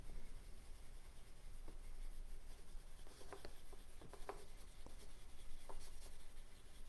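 Cotton swab rubbing over a pencil portrait drawing, a faint soft scratchy brushing with a few light taps, steady and close, with no talking.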